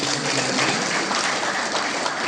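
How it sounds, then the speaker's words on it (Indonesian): An audience at a Papuan student association gathering in Sorong claps in a dense, steady burst of applause, loud and continuous across the short span with no speech over it. "kita tepuk tangan buat mereka yang sudah"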